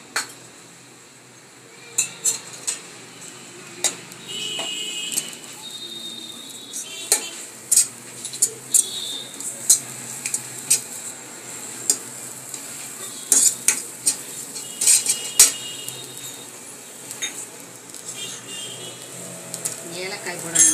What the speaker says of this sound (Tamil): பின் கடாயில் நெய் விட்டு தேங்காய் பூவை நன்றாக வதக்க வேண்டும்.